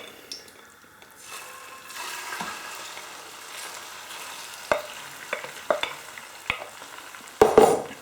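A potato and chorizo Spanish omelette mixture hitting a hot non-stick pan, rising into a steady sizzle with sharp clacks and scrapes as it is tipped in and pushed around, loudest toward the end.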